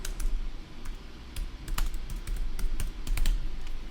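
A client's signature typed on a computer keyboard, a run of crisp, close keystrokes in uneven bursts with short pauses, with no voices.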